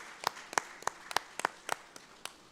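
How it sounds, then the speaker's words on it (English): A small breakout-session audience claps in sparse, separate strokes, roughly a handful of crisp hand claps spread unevenly over a couple of seconds, faint and thin rather than a full ovation. "And please clap for yourselves as well."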